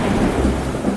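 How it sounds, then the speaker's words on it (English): Steady heavy rain pouring down with a low rumble of thunder underneath, loud and continuous throughout. "It starts raining heavily outside."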